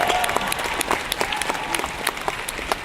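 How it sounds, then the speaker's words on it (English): A convention audience applauds at a comic-con panel, a steady patter of many hands clapping throughout, moderately loud with no talk over it. "which I think deserves a round of applause."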